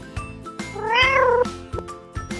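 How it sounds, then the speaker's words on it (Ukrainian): A single drawn-out cartoon cat meow in an animated Ukrainian folk tale rises and falls, clear and close, with light rhythmic tapping in the background. "А в собаки товаришка киця Варварка."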